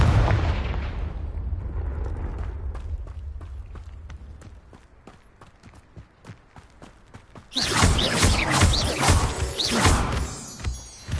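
Hogwarts Legacy combat: a fire blast spell booms into a rumbling roar, then rapid clicks and footsteps patter before a bright, crackling fiery burst swells loudly near the end.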